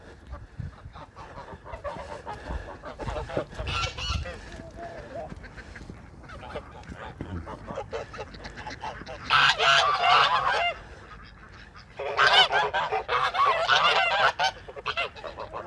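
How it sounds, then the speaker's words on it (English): Geese on a farm honk loudly in several bursts, with loud clamorous stretches near the end, mixed with chicken clucks and fowl noise, and a person speaks briefly between the calls. "the biggest difference between raising chickens and raising geese is the noise. Geese are a lot louder."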